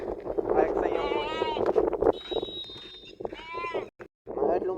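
A person's voice imitates a goat bleating, giving a few wavering, nasal bleats separated by short breaks, close and fairly loud, with some wind noise on the microphone.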